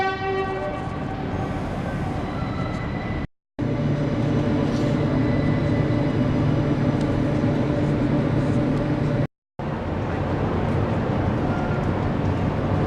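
Tiltlander passenger train running from Brisbane to Rockhampton, heard from inside a carriage: a loud steady rumble of wheels on rails with a sustained horn tone early on, continuous apart from two brief cuts.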